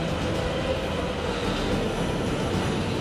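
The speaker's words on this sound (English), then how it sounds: "In the metro of Brussels, indeed, there are parts where trains drive on the right-hand side, such as here in Gare Centrale station." A Brussels metro train runs at Gare Centrale station, a steady loud rumble of rail noise that stays even throughout with no voices.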